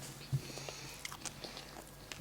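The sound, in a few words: chewing a piece of potato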